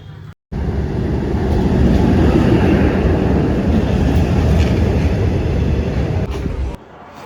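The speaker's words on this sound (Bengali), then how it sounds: "আমাদের ট্রেন প্রায় চলে এসছে" A train pulls into a station, its deep rumble and roar rising abruptly and holding loud and steady for several seconds before cutting off.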